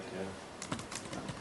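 Soft keyboard typing, a handful of quick light key taps in a short burst after a brief pause, quiet and close.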